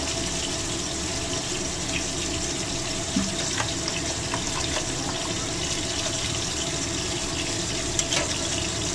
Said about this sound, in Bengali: ফুটে উঠেছে